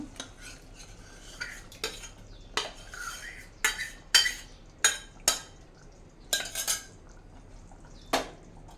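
A metal spoon mixes radish sambar ingredients in a cooking pot, giving a run of close, sharp scrapes and clinks in an irregular rhythm. No voices are heard.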